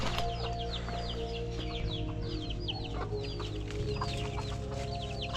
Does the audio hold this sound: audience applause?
no